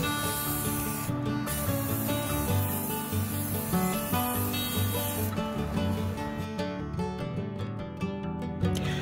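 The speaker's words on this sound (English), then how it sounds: "I really didn't want brush strokes on this, so spray paint it is" A continuous hiss of spray paint from an aerosol can, steady and close, with a faint musical background underneath.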